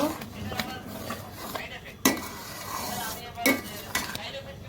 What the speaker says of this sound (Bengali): এবার সব মিশিয়ে দিব।